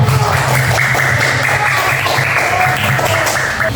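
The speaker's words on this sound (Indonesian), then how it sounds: "Ya benar ya, beri tepuk tangan." Fifth-grade pupils applaud in an Indonesian elementary classroom: a loud, dense, unbroken wash of many hands clapping together, with children's voices faintly mixed in underneath.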